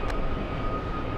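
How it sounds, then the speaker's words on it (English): A Japanese Airbus A350-1000 airliner at JFK airport gives off a steady, loud jet engine roar that holds at one level through the moment. "Let's go for the Japanese A350 1000. Flying out to Haneda."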